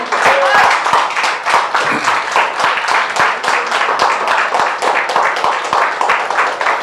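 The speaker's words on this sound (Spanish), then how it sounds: "Si lo entendió, dele palmas al Rey." A church congregation claps in a fast, steady rhythm that fills the whole stretch loudly, with voices mixed in under the clapping.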